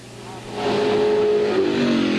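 McFarland's Mustang race car racing at Brainerd in 1981 IMSA Kelly American Challenge competition, its engine rising to a loud, close roar and holding high revs with a brief gear-change dip near the end.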